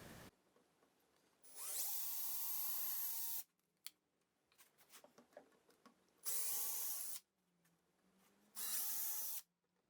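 A power drill drives screws into a wooden crosscut sled in three loud, steady bursts of a few seconds each. Close-up clicks and handling knocks fill the gaps between the bursts.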